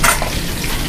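Food frying in oil in a home kitchen, a steady close sizzle with crackling bursts filling the short moment, no voices.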